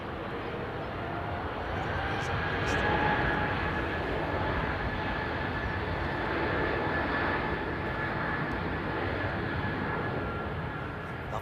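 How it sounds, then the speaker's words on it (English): A propeller airliner at London Heathrow Airport drones with a steady, continuous engine roar that stays fairly loud and unbroken throughout, with no talking over it. "Love the sound of a prop, don't we, folks?"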